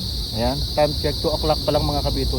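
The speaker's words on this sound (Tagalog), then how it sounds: "Pero yung tunog ng mga kuliglig," Crickets chirp in a steady, dense high-pitched trill in a rural afternoon setting, continuous beneath someone talking casually nearby.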